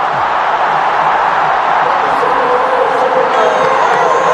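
Large crowd at a T20 World Cup cricket match between India and New Zealand roaring steadily and loudly as a big hit sails toward the stands, a dense sustained cheer with commentary over it.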